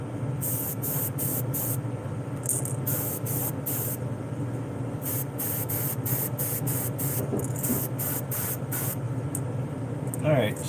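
An airbrush sprays Createx paint onto a smallmouth bass fishing lure in repeated short bursts, each a loud close hiss starting and stopping in steady rhythm, over a low continuous compressor hum.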